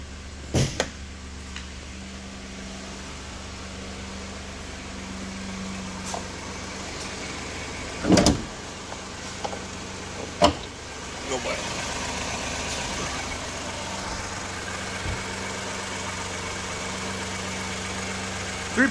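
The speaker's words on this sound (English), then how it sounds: "I'm going to go ahead and pop the hood and let you listen to it run." A 2013 Ford F150 with its 3.5 liter V6 EcoBoost engine idles under an open hood, giving a steady, moderately loud hum with a constant low drone. A few sharp clicks and knocks break in now and then.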